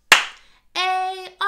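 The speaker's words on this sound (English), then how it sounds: "let's do it with a clap for the E this time" A single sharp hand clap opens a preschool Earth Day storytime song, followed by sustained singing voices that pause briefly and then resume.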